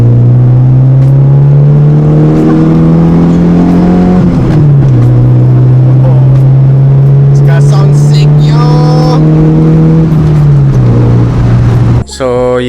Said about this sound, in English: Ben is driving VTEC.